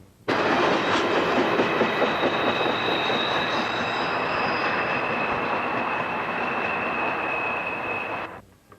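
The Pennsylvanian passenger train roars past close by, steady wheel rumble and clatter with a high squealing whine, cutting off abruptly at the end.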